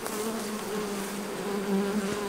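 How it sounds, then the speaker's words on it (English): Honey bees buzz steadily around honey supers on a front porch beehive, a continuous close, droning hum with no talk. "There's a little bit more bees in this one than I would like."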